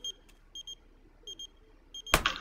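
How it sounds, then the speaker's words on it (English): Phone ringing in the video game Knowing Nora: short electronic beeping rings in repeated pairs, spaced evenly and fairly clear, before a loud burst of another game sound at the end. "He's getting a phone call."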